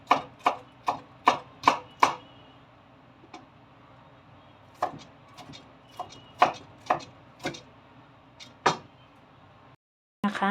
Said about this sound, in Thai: หั่นเป็นส่วนๆชิ้นเล็ก ๆนะคะ